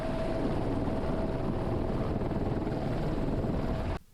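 Loud, steady rotor thumping and engine roar of a California Highway Patrol rescue helicopter landing on snow up close, continuing evenly before cutting off abruptly at the end.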